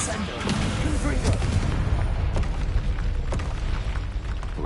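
A Confringo blasting spell goes off in a video game, heavy booms and crackling blasts bursting repeatedly through busy game audio.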